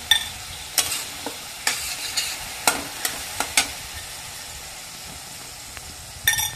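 Garlic fries in a pan as asafoetida goes in, with soft sizzling under repeated scraping stirs and light clinks of a spoon against metal, close and alone.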